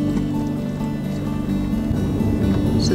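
A vehicle drives along the French Line sand track in the Simpson Desert, heading west, with a steady close engine drone and rumble throughout.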